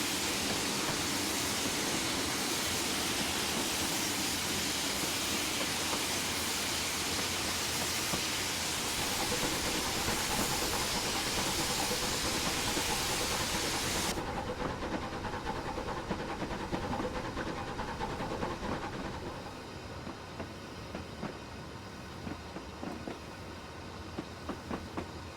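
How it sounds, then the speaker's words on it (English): A steam train arriving at the port of Mallaig in a Train Simulator game, the Hogwarts Express run from Fort William, a broad steady rumble and rush of rolling stock that thins and quietens partway through. "Here we are, just arriving into the port of Mallaig."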